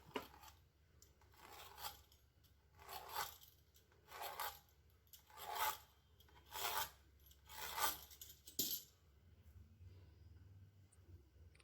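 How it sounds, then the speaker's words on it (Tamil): Knife slicing potato into long French fry strips on a board, about eight crisp evenly spaced cuts close by and quiet, each a short crunchy scrape, with no talking. "இப்போ இதை நீள நீளமாக கட் பண்ணிக்கலாம்."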